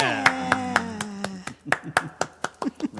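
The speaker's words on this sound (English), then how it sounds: "Round of applause." During a Sunday livestream, a few hands clap at a quick, uneven pace. The claps are sharp and near, first over a sustained tone that fades, then alone as looser, separate slaps.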